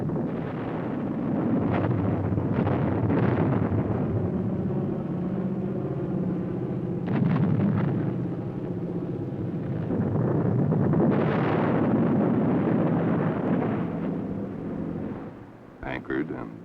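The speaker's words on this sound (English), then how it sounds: "Army, Navy, and Marine Corps pilots bombed a submarine, a destroyer, and the cruiser Frankfurt" Bombs hit captured German warships at anchor: a submarine, a destroyer and the cruiser Frankfurt. Deep, continuous rumbling with heavier booming swells, muffled and distant, with a voice talking over it.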